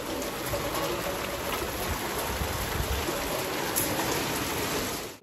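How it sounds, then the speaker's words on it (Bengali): Steady, dense rain pours down throughout during a Durga Puja Saptami outing in Sainthia, Birbhum, a continuous close wash of patter that cuts off abruptly at the very end. "সে এতদিনের অপেক্ষার সপ্তমীর দিনে বৃষ্টি শুরু হয়ে গেছে ভাই ভাবা যায় দেখো"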